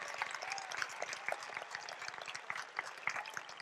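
Faint applause from a high school graduation audience honoring the school staff, a soft, steady patter of clapping that stays quiet and distant throughout.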